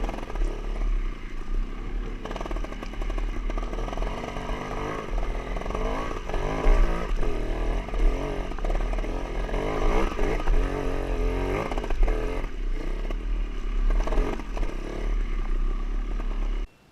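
A motorcycle engine revs steadily and loudly as the bike climbs a hill, with throttle surging and easing over a continuous rough drone and no talking.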